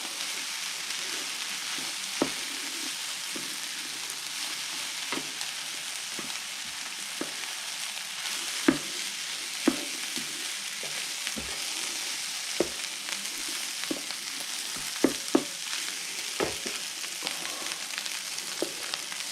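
Rice for nasi goreng fries in a pan with a steady close sizzle, punctuated every second or two by the clack and scrape of stirring through the grains.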